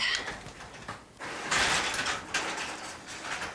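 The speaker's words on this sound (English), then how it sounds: "pull the emergency release cord and slide the traveler towards the power unit." A garage door opener traveler slides along its rail toward the power unit, a close, noisy scraping rumble in two stretches with a brief pause between.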